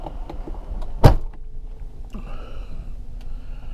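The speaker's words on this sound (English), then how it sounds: "I'm just opening the door to show you that we're inside the box." A car door opens with a single sharp, loud click and thump near the start during a parallel-parking driving lesson, followed by quieter rustling and faint vehicle cabin background.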